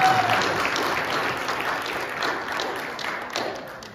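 A homecoming crowd claps and cheers for Cody after the call for another cheer, a dense, steady wash of applause that fades slightly toward the end.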